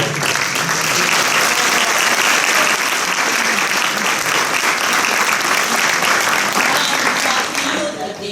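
An audience at a school charity concert claps steadily and densely for about eight seconds, with some voices mixed in before the applause tapers slightly at the end.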